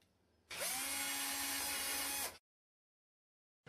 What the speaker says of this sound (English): Once you have completed the drilling,